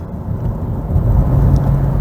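A 2001 Lexus GS430 with its 4.3-liter V8 accelerating gives a steady, deep low rumble that swells slightly as it pulls, close and continuous with no voices.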